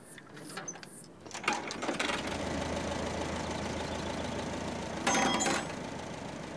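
A tractor engine turns over and catches, then settles into a steady rumbling idle with a louder burst of revving near the end; brief voices are faint at the start.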